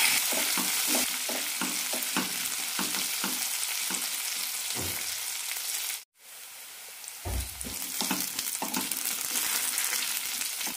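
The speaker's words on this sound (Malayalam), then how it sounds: "പച്ചമുളക്, ചെറിയുള്ളി ചെറുതായി ഒന്ന് ചോർന്ന് കിട്ടണം." Green chillies and shallots fry in a pan with a constant crackling sizzle and repeated scraping stirs, briefly going quiet before the stirring and sizzle resume.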